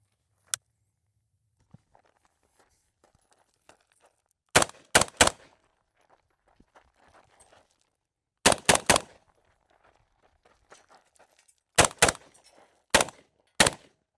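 An IWI Tavor X95 bullpup rifle fires in a close-quarters test in loud, sharp bursts of two to four shots separated by quiet pauses, with faint shuffling and footsteps between them.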